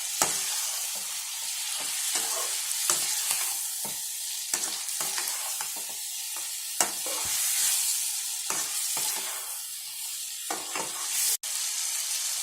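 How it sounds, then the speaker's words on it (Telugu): Ginger garlic paste being stirred into chicken curry frying in a pan, a steady close sizzle broken by repeated scraping strokes of the spoon against the vessel. "ఆ పేస్ట్ బాగా కలిసేలా కలుపుకోవాలి."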